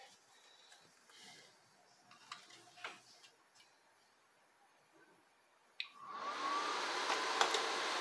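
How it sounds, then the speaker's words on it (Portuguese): An ATX Delta power supply with a fault, a wire touching the circuit, is switched on: quiet clicks and small taps, then a sharp click followed by a steady loud fan whoosh that holds to the end. "Vamos ligar aqui a fonte."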